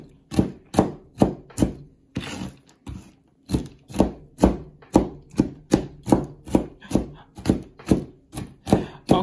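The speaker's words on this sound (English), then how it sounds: "my walnuts are chopped" Knife chopping walnuts on a cutting board for chicken salad, a steady run of about twenty sharp, close knocks at an even rhythm with a short pause early on, and no talking.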